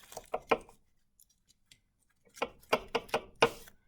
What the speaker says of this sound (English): you're going to trim the edge. Just use a blunt knife, turn in the pastry, going round the edge